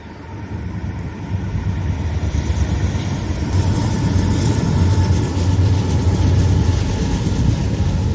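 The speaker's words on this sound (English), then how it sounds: "A train going over while we're here." A train rolls across the Martins Creek or Tunkhannock Creek viaduct, a loud, continuous rumble that builds and holds steady from fairly close by, with no talk.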